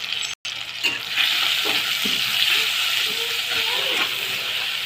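Tomato with turmeric and salt frying in a pan, a steady close hiss and sizzle with soft stirring scrapes, starting after a brief gap and holding evenly to the end.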